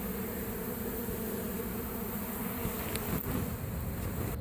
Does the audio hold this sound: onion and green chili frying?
no